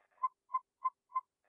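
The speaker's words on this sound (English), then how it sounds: "you fly close to buildings and you hear little beeping sounds" Skydiving video game hug-points beeps from flying close to buildings: four short, evenly spaced electronic chirps, quiet and clean against silence.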